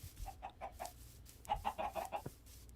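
Chickens in the Minecraft video game cluck in two short bursts of quick, evenly spaced clucks, quiet and clear with no talking.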